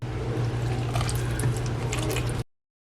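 Water trickles little by little into paniyaram batter as it is mixed by hand, a close, steady wet squishing and liquid sound that stops abruptly.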